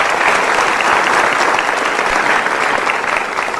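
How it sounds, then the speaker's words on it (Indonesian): Studio audience applause at a motivational talk show, a dense, steady wash of clapping filling the room at full volume without a break. "Tepuk tangan untuk Anda sahabat super."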